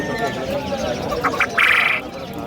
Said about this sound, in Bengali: ডাকছে দেখো পাখিগুলো